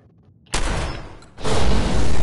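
A gas explosion goes off in Fallout 76: a sudden loud blast, then a fading rumble, then a second, heavier roar that keeps going.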